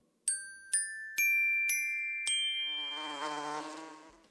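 An animated bee buzzes loudly for about a second, just after a run of five bright, chiming cartoon dings that ring out one after another.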